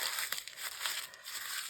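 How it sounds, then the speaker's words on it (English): Paper crumpled by hand to add texture for a junk journal, a close, continuous crinkling and crushing with sharp crackles throughout and no voices. "And you just crumple it"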